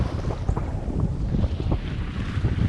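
Steady, gusty wind roars across the microphone aboard a sailboat at sea, some 20 miles west of Puerto Rico, with a low rumble of water and hull beneath it and no talking.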